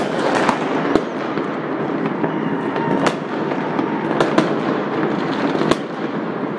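New Year's fireworks bursting nearby, a steady crackle of firecrackers with sharp, loud bangs popping through at irregular intervals over a dense, continuous roar.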